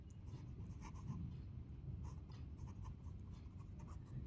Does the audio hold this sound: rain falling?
no